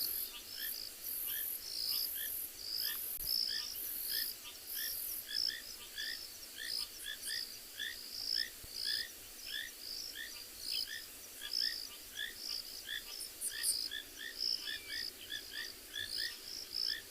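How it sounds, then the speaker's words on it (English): Rain frogs calling at sunset in the Kalahari during a safari, a chorus of rapid repeated chirping calls layered with continuous high insect-like trilling, steady and moderately distant with no talk. "Beautiful sound of all the rain frogs."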